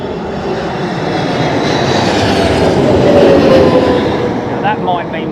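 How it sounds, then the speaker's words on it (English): An airliner comes in to land at Heathrow Airport in high winds, a loud, continuous roaring rumble of engines and rushing air swelling gently, with faint voices underneath. "That might mean we'll have a little bit of floofage before she touches down as well."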